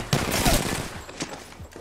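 Rapid shard-rifle gunfire crackles in the Apex Legends battle royale shooter, a dense near burst of overlapping shots with a few fainter pops trailing off toward the end.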